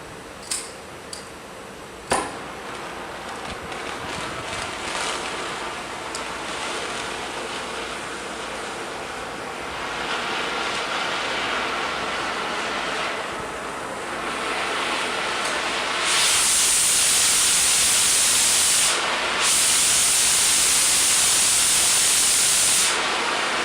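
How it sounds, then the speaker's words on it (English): Oxy-fuel cutting torch flame roaring with a steady broadband hiss, with a few sharp clicks near the start, then growing louder and harsher as the oxygen cutting lever is pressed, briefly dipping before surging again. "Now you will depress the oxygen cutting control lever on the torch"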